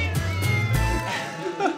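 Cats meow in a few drawn-out, wavering calls, close and fairly clear, over a steady background hum with some talk.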